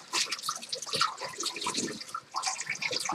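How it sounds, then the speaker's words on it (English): Running tap water splashes over produce and into a bowl at a kitchen sink, a close, continuous gurgling spatter with a brief lull near the end. "let me wash one more here"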